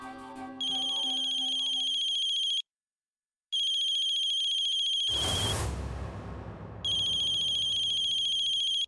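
A telephone rings with a bright, high, trilling electronic ringtone in long repeated bursts separated by a gap, loud and close, with a short rushing noise between rings and no talk.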